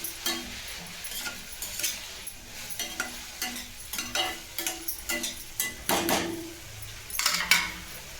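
A spoon stirs bitter gourd mixed with ground peanut powder in a pan, scraping and clinking in a steady run of strokes over a low sizzle, loud and close, no voices.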